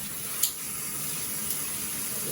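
Steady broadband rush of water spraying from a matte black SparkPod 3-function shower head during a pressure test, continuous and fairly close with no talking.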